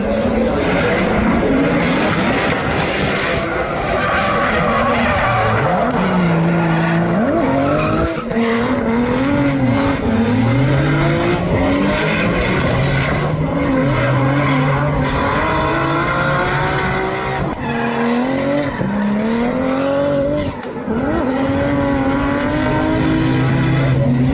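Professional drift cars tandem drifting at a Formula Drift event, with loud continuous engine roar, rising and falling revs, and sustained tire squeal and skidding throughout, close and dense with no pauses.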